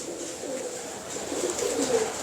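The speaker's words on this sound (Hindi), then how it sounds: "चौधरी तौसीफ के कबूतरों की बात करूं" Kept pigeons give low, soft coos that rise slightly toward the end of a short stretch, over a faint background hiss, with no talking.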